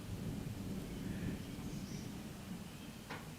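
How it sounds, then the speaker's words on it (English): Distant thunder rolls low and steady through woods for the whole stretch, a continuous rumble with a brief crackle near the end and no voices. "That's thunder."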